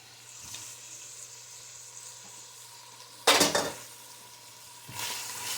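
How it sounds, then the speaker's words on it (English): Onion and garlic frying in bacon fat for a corn chowder, a steady low sizzle with loud bursts of stirring and scraping in the pan partway through and again near the end, no talk. "we're just going to keep on stirring this in here and simmering it down until our onions are a little translucent"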